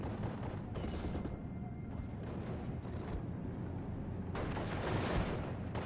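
An auto cannon fires in the Steel Division 44 war game, a dense continuous roar of rapid booming blasts mixed with distant battle noise, sustained and loud throughout.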